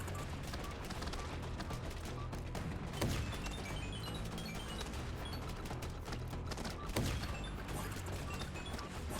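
Exploding bullets fire nonstop in the zombie video game Biters & Bullets, a dense, loud barrage of overlapping blasts and impacts with a couple of sharper bursts standing out.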